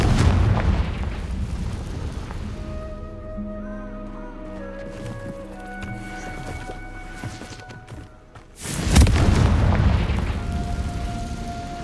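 A Confringo explosion spell goes off in the video game Hogwarts Legacy, first as a booming rumble, then as a sudden loud blast near the end, with tonal game music and effects in between.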